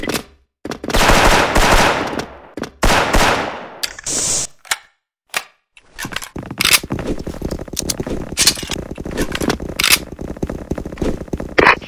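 Bursts of AK74 gunfire from the video game Bull SF, loud close automatic volleys with short pauses, then a denser stretch of rapid mixed shots and game effects continuing to the end.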